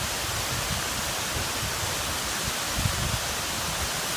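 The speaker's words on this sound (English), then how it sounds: "listen to the waterfalls" Waterfalls roaring steadily beside a trailside campsite, a dense, even rush of falling water that continues unbroken throughout.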